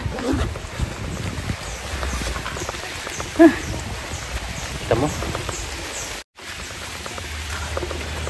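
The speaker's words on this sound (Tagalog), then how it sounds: "bigla na namang bumuhos yung ulan" Heavy rain pours down steadily on a hiking trail, a broad continuous hiss, while a person speaks briefly over it.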